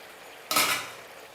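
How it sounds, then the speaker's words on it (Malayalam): A utensil stirring fried chicken in a pan gives a single short, close scrape and clink that fades quickly into quiet. "എന്നിട്ട് നല്ലോണം ഒന്ന് ഇളക്കിയെടുക്കുക"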